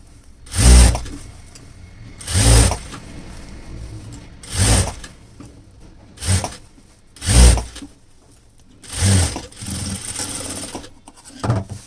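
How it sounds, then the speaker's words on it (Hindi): A sewing machine stitches an elastic waistband on a pair of pants, running in six separate bursts of about a second each with short pauses between, loud and close with no talk. "ऐसे इलास्टिक को आपको खींचते हुए इस तरीके से सेंटर में सिलाई लगानी है।"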